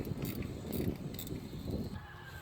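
Hand ratchet with a 13mm socket snugging valve cover bolts on a 2002-2007 Dodge Ram 1500 4.7L engine, a steady run of quick close clicks and mechanical rattles throughout, with no talking.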